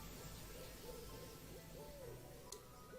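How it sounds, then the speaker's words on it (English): An owl-like bird hoots in AFK Arena, a few soft, rising-and-falling calls spaced across the moment, faint against a steady game ambience with no talking. "it's a bird, I guess"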